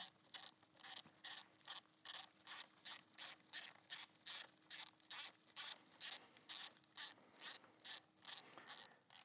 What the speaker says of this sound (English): we will start by running these bolts in by hand or with a ratchet, whatever